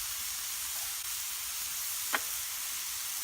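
Smash burger patties fry on a hot surface with a steady, even sizzling hiss, broken once by a brief sharp tick.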